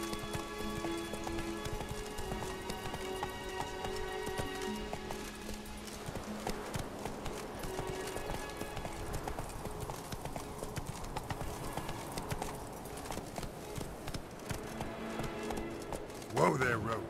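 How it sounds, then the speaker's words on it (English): A horse gallops in The Witcher 3: Wild Hunt, with rapid, rhythmic hoofbeats clip-clopping close and steady throughout. Game voices talk over it, and a brief louder thump comes near the end. "Whoa there, Roach"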